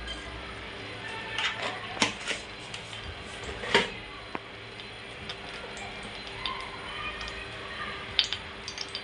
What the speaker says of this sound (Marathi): राई तडतड झाली आहे